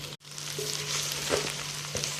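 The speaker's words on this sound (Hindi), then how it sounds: "तो अब हम भिंडी डाल के इसको फ्राई करेंगे अच्छी तरह" Okra frying over high heat in a pan, a steady close sizzle with a few soft stirring scrapes and no voices.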